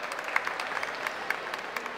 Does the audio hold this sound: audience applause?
yes